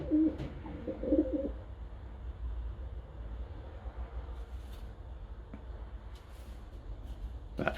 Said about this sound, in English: But beautiful pigeon, nice and calm.